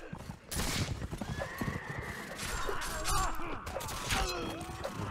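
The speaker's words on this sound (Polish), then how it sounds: "Kurde, no koni." Horses whinny and neigh amid clip-clopping hooves and battle clatter in the video game Mount & Blade: With Fire and Sword, several calls overlapping through a noisy cavalry fight.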